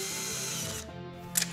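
A short burst from a power drill or screwdriver driving a fastener while curtains are mounted in a bedroom, steady and close, with a small mechanical click near the end.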